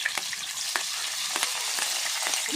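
Onions frying in a pan of hot oil with mustard seeds, cumin and curry leaves, a steady close sizzle with a few sharp crackles and stirring clicks, no voices.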